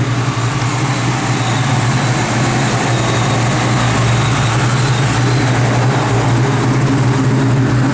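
A 1972 Dodge Challenger's engine runs steadily and loudly up close, a constant low rumble with a broad, even roar and no change in revs.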